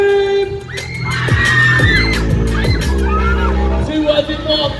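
Riders on the Megaspin ride at a Milton Keynes funfair scream and shout together in a loud, sustained crowd roar, with a booming music beat underneath.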